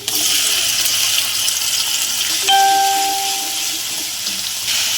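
Loud, steady sizzling of ground spices frying with chopped onion in hot oil, with a brief ringing metallic tone partway through.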